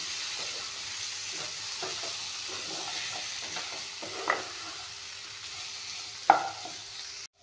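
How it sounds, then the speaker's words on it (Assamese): Bitter gourd frying in a pan over lowered heat with salt, cumin and black pepper powder, for a bitter gourd and fish dish; a steady soft sizzle runs throughout, with a couple of sharper scrapes of stirring. "এইখিনি অলপমান জুইটো কমাই দি ভাজি ল'ম।"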